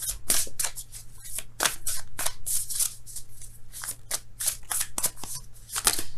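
Tarot cards riffled and flexed by hand, a close run of quick crisp snaps and flutters repeating in bursts over a faint low hum, with no one speaking.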